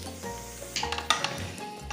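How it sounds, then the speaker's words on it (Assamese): Carrot sandwich filling fries gently in a pan over low heat, a soft steady sizzle with a few light clinks and stirring scrapes of a utensil. "ভালদৰে গোটেইখিনি মিলাই দি অকণমান ভাজি ল'ম, বেছিকৈ নহয়, একেবাৰে কম পৰিমাণে"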